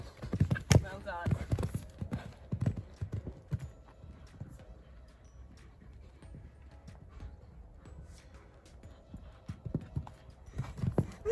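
Hooves of a horse cantering through an at-home jumping exercise clip-clop in a steady rhythm on the ground, fairly close, with a brief whinny and a rider's voice talking over parts of it.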